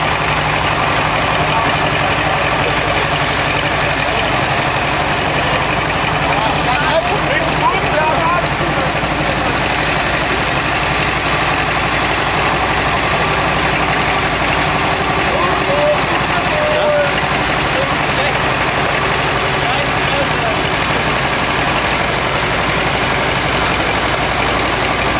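A vintage IFA tractor engine idles at a classic vehicle meet in Werdau, a steady, close mechanical hum with constant low rumble and light rattle, and people talking nearby.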